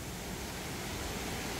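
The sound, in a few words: twin waterfalls at a resort in Bulusan, Sorsogon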